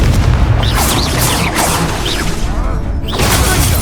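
Spell-casting blasts and whooshes in the Hogwarts Legacy video game, with booming impacts and swishing magical sweeps repeating at a steady pace over a loud, dense combat backdrop.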